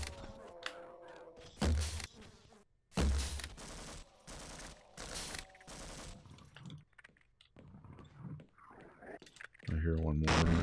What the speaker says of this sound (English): Do not shoot me with a bee